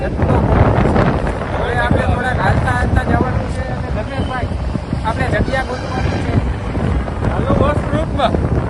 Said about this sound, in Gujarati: એટલી ઠંડી હવા આવે છે